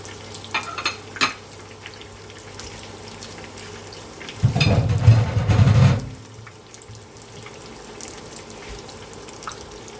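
A short burst of sizzling from a frying pan mid-clip, loud for about a second and a half, with quieter kitchen clatter before and after.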